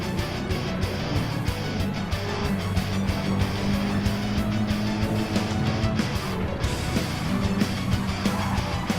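Race car locking its brakes and sliding in a 600-class race at Suzuka in a racing video game, a dense, loud, continuous roar of engines and tire noise with no talk.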